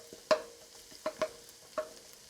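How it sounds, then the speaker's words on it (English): Garlic fries quietly in chicken fat, a low sizzle broken by a handful of sharp, scattered pops and crackles. "And now the garlic is frying in chicken fat also."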